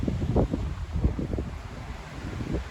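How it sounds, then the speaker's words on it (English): Steady coastal wind gusts buffet the microphone at Kabushima on the Hachinohe coast, Aomori, Japan, in spring, with low rumbling bursts, a blustery outdoor roar with no voices. "It's quite windy because it's next to the coast."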